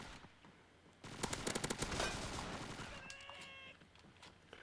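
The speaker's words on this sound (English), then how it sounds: "Oh, I'm being shot at." Rapid burst of gunfire from a Roblox Call of Duty WW2 battle, loud repeated shots clustered around the middle, followed by a brief high whistling tone and quieter background.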